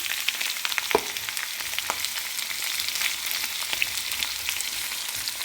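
Sliced onion and curry leaves sizzle in hot oil with toasted seeds for a taro root fry, a steady crackling hiss broken by occasional sharp pops and a stir of the pan.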